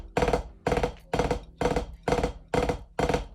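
Seven fast bass drum notes from a drum line, each pair struck loud and open with a full, resonant boom, repeating in a steady, even rhythm with no voices.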